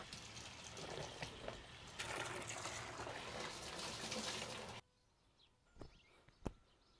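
Tap water runs in a steady loud gush over cloth cheese bandages being washed with detergent, then stops abruptly, leaving a few soft knocks and splashes in a quiet room.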